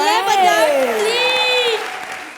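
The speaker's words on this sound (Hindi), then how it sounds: "उनके लिए जोरदार तालियां" Studio audience applause on a comedy show stage, a steady clatter of clapping under a sliding, tonal voice that carries through most of the stretch.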